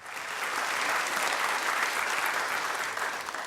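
An audience breaks into sustained applause, a dense wash of clapping that swells and then holds steady for several seconds, with no one speaking over it.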